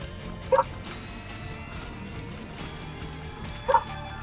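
Two short, sharp dog barks in The Binding of Isaac: Repentance, the second arriving about three seconds after the first, over a quiet game background.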